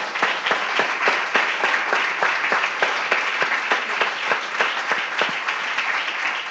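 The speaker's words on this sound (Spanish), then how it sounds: "Démosle un aplauso al Señor, hermano." A church congregation applauds together in a steady, dense burst of clapping that fills the room, with no voices rising above it.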